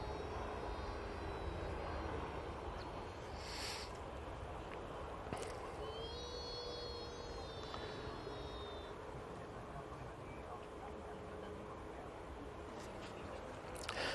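An EasyJet airliner in special Austria livery moves at Manchester Airport, its engine noise a steady, moderately distant broadband roar holding for the whole stretch, with a few faint bird chirps and light background activity on top.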